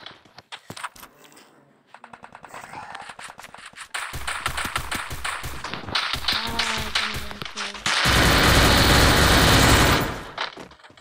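Shotgun fire in the Free Fire battle-royale game, heard as sharp cracking blasts, a rapid volley and a dense burst of gunfire that builds toward the end with no voices.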